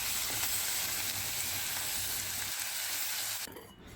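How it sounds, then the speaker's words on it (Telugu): Cumin, mustard seeds, dried red chilies and ginger-garlic paste fry in oil in a kadai for a tempering, giving a loud, steady close-up sizzle that drops off sharply near the end. "స్టవ్ పైన కడాయి పెట్టుకొని తాలింపు కోసం నూనె వేసుకొని జీలకర్ర, ఆవాలు, ఎండుమిర్చి, మనం ఏదైతే నూరి పెట్టుకున్నామో అల్లం ఎల్లిగడ్డ పేస్ట్ వేసుకోవాలి"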